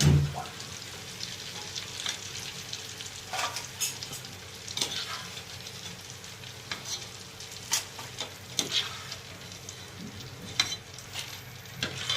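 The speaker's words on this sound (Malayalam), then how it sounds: "ചക്ക ഉപ്പേരി അത് നല്ലപോലെ മൂത്തു പോരാൻ പോവുകയാണ്" Jackfruit chips deep-fry in hot oil in a Kerala kitchen, a steady soft sizzle with occasional stirring clinks and scrapes, close and alone without talk.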